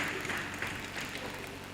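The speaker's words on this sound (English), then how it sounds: "A round of applause for her, please." Applause for Mrs. Busola Adetunji at a press week gathering, a steady wash of many hands clapping together, moderately loud at first and easing slightly toward the end, with no voices over it.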